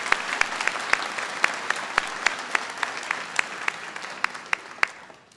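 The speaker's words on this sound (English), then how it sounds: "Let's give him another round of applause." A white coat ceremony crowd claps for an honored alumnus: a dense, even wash of applause with one nearby pair of hands striking sharp, regular claps that stand out above the rest.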